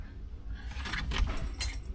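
Car keys for a 1968 Chevrolet Impala SS jingle close and briefly in a few light metallic shakes, with no talk.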